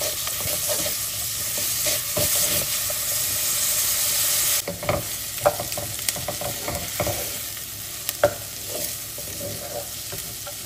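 Chopped onions sizzle and fry in a pan while being stirred for Goan pork sausages with cabbage, a steady frying hiss with scraping spoon clatter and occasional knocks, close and with no talking.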